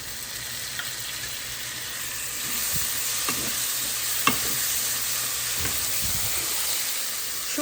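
Prawns frying with softened onions in a pan, a steady soft sizzle with a few sharp clicks and scrapes of stirring, fairly quiet and close, no talking.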